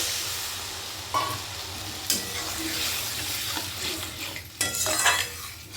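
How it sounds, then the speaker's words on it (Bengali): Masala stirred in a pan just after water is added: a continuous wet sizzle with scraping utensil strokes and a few knocks against the pan, close up and without speech. "জলটা দিয়েও খুব ভালো করে মিশিয়ে নিলাম"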